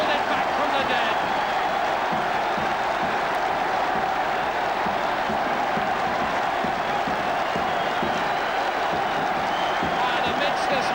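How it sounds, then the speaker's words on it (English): Leicester rugby supporters roar and cheer at a 1979 cup final, a dense, sustained crowd noise that fills the whole stretch without letting up, with a commentator talking over it. "the Leicester supporters go wild"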